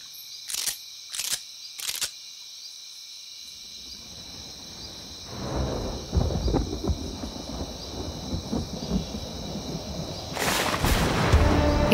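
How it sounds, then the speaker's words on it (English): A storm hits the woods at night: a few sharp clicks open, then a low rumble of thunder rolls in and swells, with a steady high insect-like hiss running underneath throughout. "a storm hit the woods."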